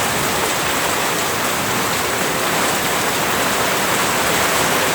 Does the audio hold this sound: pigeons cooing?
no